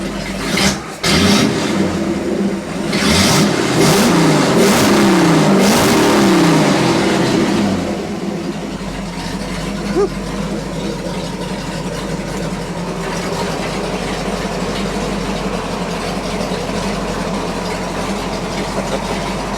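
A rebuilt Ford 390 FE V8 car engine revs hard several times in a loud series of rising and falling blips, then settles into a steady, rumbling idle up close.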